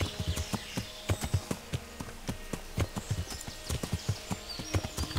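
Horse hooves in Kingdom Come: Deliverance, a brisk run of sharp clip-clop strikes in quick uneven rhythm, close and clear throughout, with no talk.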